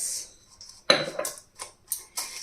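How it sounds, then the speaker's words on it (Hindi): Panjiri ingredients such as powdered sugar and chopped pistachios being mixed in a bowl, with several sharp spoon clinks and scrapes against the dish spaced irregularly, close and distinct over near silence. "इन सबको करेंगे अच्छे से मिक्स।"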